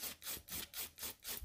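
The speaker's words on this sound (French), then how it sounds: "ça se fait assez rapidement, ça lime vraiment bien" A nail file rubs back and forth against a nail in quick, even strokes, about five rasping passes in a second and a half, close and with no talk.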